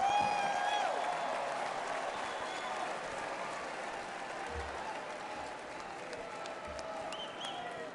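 Large convention crowd at the Republican National Convention applauding steadily and densely throughout, a broad wash of clapping with some cheering that eases slightly over time.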